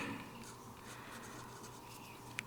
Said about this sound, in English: maybe I'm going to try to write this nicely